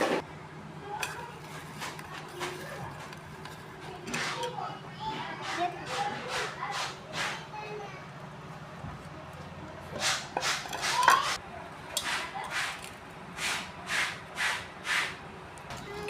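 Chopped pineapple is mixed by hand with onion, chili, mustard oil and salt, making rhythmic bursts of wet squishing and scraping in quick repeated strokes, with people chatting nearby throughout.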